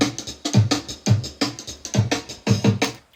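A drum break plays back from an EMU Ultra sampler, punchy kick and snare hits in a steady, looping groove, loud and close with no talk.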